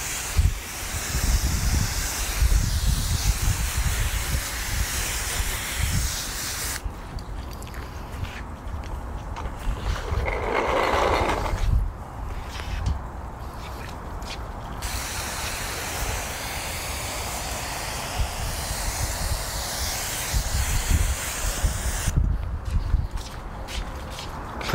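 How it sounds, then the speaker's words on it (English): A sprayer loaded with an acidic rinseless car wash hisses out a heavy misty spray, steady broadband hissing through most of the stretch with a few brief pauses, close and fairly loud, with no talking. "Puts out tons of mist."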